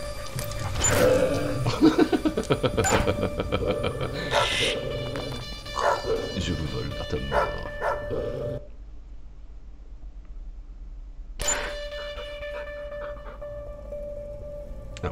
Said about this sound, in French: Gentil le chien, gentil le chien chien.